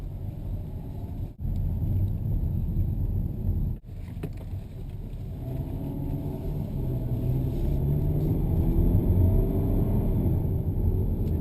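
A 2015 Hyundai Sonata turbo with a six-speed automatic drives along. Its steady low engine and road rumble holds throughout, with two brief dips near the start and no talk.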